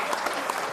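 Audience applause from a Tamil show crowd, a steady dense patter of clapping that fills the short moment without a break.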